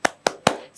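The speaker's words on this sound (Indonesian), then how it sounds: "yuk kita sejenak untuk bertepuk tangan, yaitu tepuk tangan semangat" Children clap in a classroom rhythm during a sixth-grade Indonesian lesson, giving three sharp, evenly spaced claps close by in quick succession with no talking over them.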